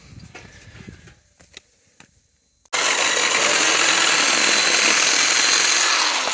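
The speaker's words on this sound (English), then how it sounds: "I'm going to cut along this line here" Metal stove pipe for a wood-burning stove is cut with a power tool: a few faint taps and clicks, then a sudden loud, steady grinding roar that continues to the end, with no speech.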